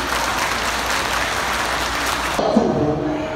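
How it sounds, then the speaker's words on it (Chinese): Audience applause at a Mother's Day ceremony and banquet in Nangan, Matsu, a dense steady clapping that fills most of the moment before cutting off abruptly into a quieter room. "请大家给掌声鼓励"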